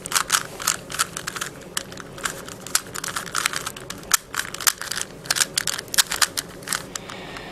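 A Rubik's cube is scrambled by hand, giving a steady run of rapid, crisp plastic clicks and clacks in close, uneven bursts, with no talking.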